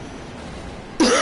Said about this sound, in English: I don't like to cough into the mic.